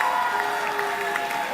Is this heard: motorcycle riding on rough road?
no